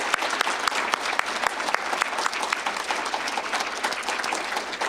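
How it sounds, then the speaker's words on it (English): Audience applause at a nursing pinning ceremony, dense sustained clapping from a large crowd that holds steady for several seconds without talk. "if we could give one more round of applause to all of these people and those who pin them"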